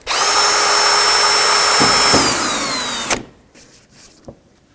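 A power drill drives a screw into a mud flap on a 2005-2009 Chevy Equinox, its loud whine running steadily for about three seconds and then cutting off, followed by a few faint knocks.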